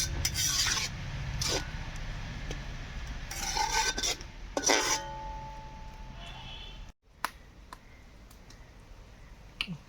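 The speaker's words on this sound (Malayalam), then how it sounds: "ഇളക്കണം കേട്ടോ നന്നായിട്ട് ഇളക്കി" A spoon scrapes and rubs through crab perattu with onion and tomato in a pan in repeated bursts of stirring, close, then a few quieter scattered clinks.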